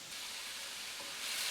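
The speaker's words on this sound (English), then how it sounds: "So now I'm going to add the rest of this broth." Broth poured into a pot of beef and mushroom stew, a brief soft sizzling hiss that swells slightly at the end, quiet and alone.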